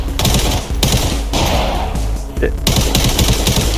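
Loud bursts of automatic rifle fire in the Arena Breakout shooter game, repeated rapid volleys broken by short gaps, with a voice speaking over the shooting.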